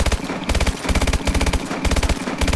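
An AMR9 submachine gun fires in Call of Duty: Advanced Warfare, producing loud, rapid automatic bursts with only brief gaps between them and no talking over the shots.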